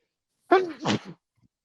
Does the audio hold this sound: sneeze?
yes